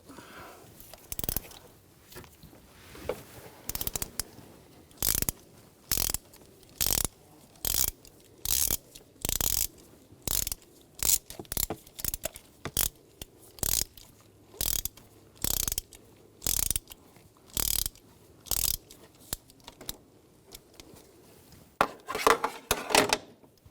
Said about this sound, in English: Using a 5/8 spark plug socket, loosen up the spark plug.